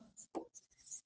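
Pen strokes scratching across paper as names are written out during an accountancy lesson, a quick run of short close strokes with brief pauses between them, no talking.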